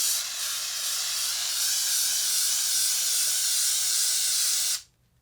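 A spray can of spray-on drywall releases a strong, continuous hissing jet at close range, loud and even for several seconds before cutting off abruptly.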